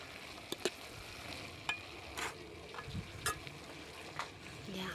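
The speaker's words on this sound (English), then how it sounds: "we stir again for a little bit" Food in a pot on a jiko in a Kenyan village kitchen is stirred quietly, with a soft, low hiss broken by several sharp scrapes and taps of the spoon at irregular intervals.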